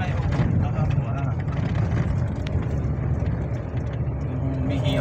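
The engine of a car driven by a learner hums low and steady inside the cabin, its rumble rising and falling slightly beneath the ongoing talk of people inside.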